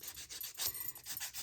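A nail buffer rubs quickly back and forth across a fingernail to take the shine off, giving a close, soft rasping scrub in rapid strokes.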